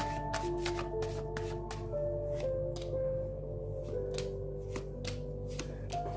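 A deck of cards is shuffled with a series of crisp, riffling bursts repeating quietly over steady background music, with no talking.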